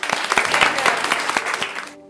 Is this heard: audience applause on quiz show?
yes